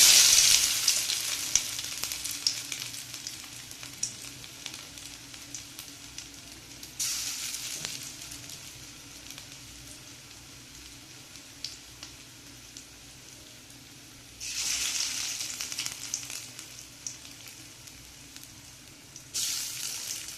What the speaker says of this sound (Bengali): গ্যাসের আঁচ একদম কমিয়ে দিয়ে ঢাকনা দিয়ে দিয়েছি এরকম করে বড়াটা ভেজে নেব